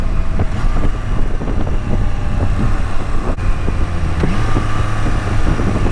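A 2022 Triumph Trident 660 motorcycle rumbles steadily under heavy wind buffeting while riding, its engine note droning continuously and shifting slightly as it downshifts.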